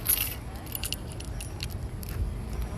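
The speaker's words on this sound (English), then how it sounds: "Let me give you the keys." A bunch of keys jangles close by in bright, rattling bursts as it is handed over beside a parked car, steady and alone without talk.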